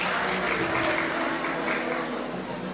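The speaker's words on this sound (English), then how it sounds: "may we clap the hands for them as they are taking a photo, colleagues?" Audience at the Motheo Education 2023 awards ceremony clapping steadily for the whole stretch, a dense sustained wash of many hands with faint voices mixed underneath.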